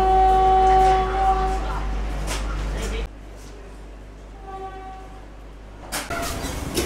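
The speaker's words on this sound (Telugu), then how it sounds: "ఇప్పుడైతే స్టార్ట్ అయిపోయింది ట్రైన్" A Bhopal to Ujjain train pulls away with a deep low rumble and a sustained horn-like tone, then the noise drops to a quieter rolling hum before swelling again.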